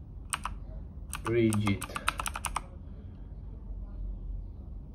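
Someone types on a computer keyboard while entering commands in the Windows command window, a quick burst of close, crisp key clicks lasting about a second, with a voice speaking briefly just before.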